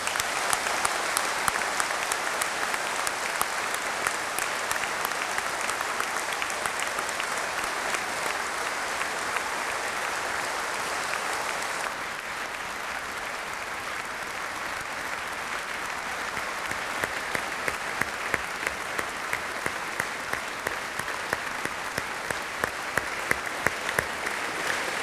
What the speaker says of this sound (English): I'd like to give the graduates a massive round of applause.